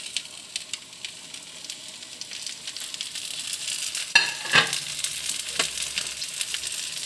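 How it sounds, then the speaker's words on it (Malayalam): Biryani paste being stirred into chicken in a hot pan, a steady close sizzle with the scrape of a spoon working through the mixture and a couple of louder stirring bursts midway. "ബിരിയാണി പേസ്റ്റൊക്കെ ഒന്ന് ചേർത്ത് ഒന്നിച്ചൊന്ന് യോജിപ്പിച്ച് ഇളക്കിയെടുക്കാനാണ്"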